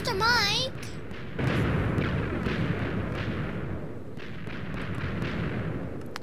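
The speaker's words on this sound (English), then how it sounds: "That was an explosion." A Minecraft explosion bursts out as a short boom after a brief burst of game sound, with a rumbling tail and scattered crackles, while players chatter over it.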